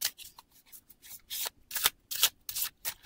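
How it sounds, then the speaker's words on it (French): A deck of tarot cards being cut and shuffled by hand, close and fairly quiet: a quick run of papery riffles and slaps in uneven bursts. "je vais couper le jeu"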